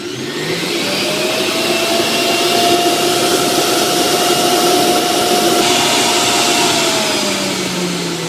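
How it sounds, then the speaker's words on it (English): The motor of a Sage Nutri Juicer Pro juicer runs at full speed, a loud, steady, whining roar heard close up and without talking for about eight seconds. "It does say that you're meant to wait for the motor to get to full speed before you start putting the fruit in."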